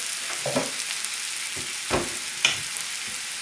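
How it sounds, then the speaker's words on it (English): Potatoes fry in a pan for Lyonnaise potatoes with a constant crackling sizzle, punctuated by a few soft scraping stirs. "As long as you hear it cooking like that. That sound, that frying sound"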